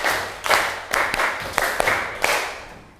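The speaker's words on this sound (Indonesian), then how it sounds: "2 kali tepuk 5." A class of students in an Indonesian classroom claps a rhythmic clapping game, with sharp, fairly close hand claps falling in short groups over a steady roomy background.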